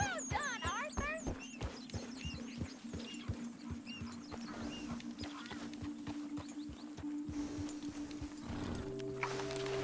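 Horse galloping in Red Dead Redemption 2, with steady hoofbeats thudding through the first half, then a sustained hum and a sharp whinny-like tone near the end; faint bird chirps and a voice are mixed in.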